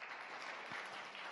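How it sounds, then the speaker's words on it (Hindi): Brief burst of audience clapping in a Ramazan television studio show after a gift hamper is handed out, a soft, even patter of many hands over a short moment. "तालियां तो बजा दो"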